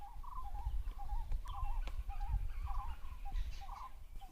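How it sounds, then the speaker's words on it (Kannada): Birds call repeatedly on a quiet hilltop trekking trail, with short warbling phrases at regular intervals over low outdoor rumble and no talk. "ಬಂದಂದ್ರೆ ಬರೀ ನಿಮಗೆ ಏನು ಅಂದರೆ ಪಕ್ಷಿಗಳ ಸೌಂಡು ಅಷ್ಟೇ"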